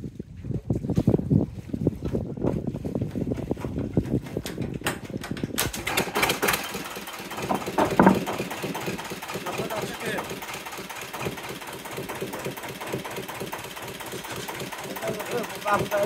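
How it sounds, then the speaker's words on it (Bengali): A large engine on a Bay of Bengal fishing boat is hand-started, first irregular cranking knocks and then a steady loud diesel chugging that fills the clip, with wind noise and voices talking nearby. "এক হাত দিয়ে স্টার্ট দিচ্ছে কত বড় মেশিন"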